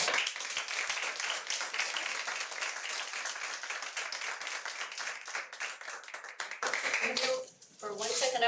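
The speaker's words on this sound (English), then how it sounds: "One more big warm round of applause." A crowd at a school board meeting claps in a loud, sustained round of applause that stays dense for several seconds, then thins as a voice begins near the end.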